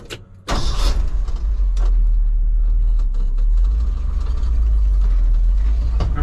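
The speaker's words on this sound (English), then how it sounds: "you guys can hear the truck running here" A highboy ranch truck drives along with a steady, loud low engine rumble throughout, the cabin noise rising sharply after a brief quiet start and holding constant.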